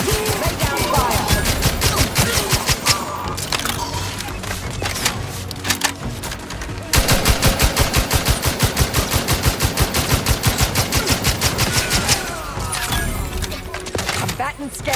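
Rapid automatic gunfire in Outer Worlds 2, firing loud and close in long, unbroken rattling bursts with a few brief pauses, while a synthetic voice speaks over parts of it.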